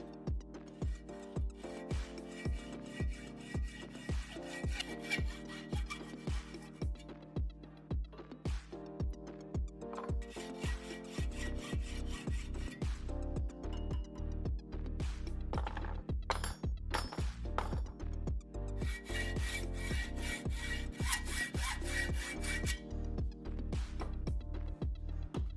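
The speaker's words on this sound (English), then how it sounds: "I used a hacksaw to cut off the sprues and excess metal." A hacksaw cuts sprues and excess metal off a cast metal bolt and nuts with steady back-and-forth rasping strokes, close and regular, growing busier and harsher partway through.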